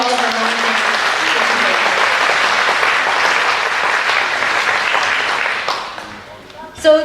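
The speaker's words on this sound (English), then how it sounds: "So I'd like to give them a round of applause to all of our volunteers." Sustained audience applause for volunteers at a dessert concert, a dense steady wash of many hands clapping that fades near the end as a voice begins speaking.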